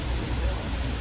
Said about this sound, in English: it's really starting to rain quite heavy now, as you can see